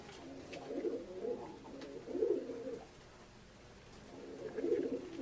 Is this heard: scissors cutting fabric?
no